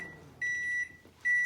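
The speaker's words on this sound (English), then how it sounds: "I see our microwave has 7 seconds left." Kitchen microwave oven finishing its countdown with sustained electronic beeps, two long tones separated by a short gap and a third starting at the end, clear and close with no talk.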